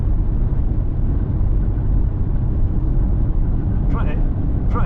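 A Vauxhall Vectra Envoy 1.6i 75bhp cruises steadily at 70 mph, a constant low road and engine rumble with wind noise from inside the cabin, briefly overlaid by a faint voice near the end.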